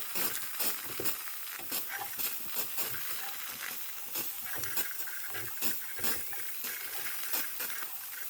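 A Wilesco D409 model steam showman's engine hissing steam in a continuous rushing spray, punctuated by repeated sharp spitting bursts at an uneven rhythm, heard close up.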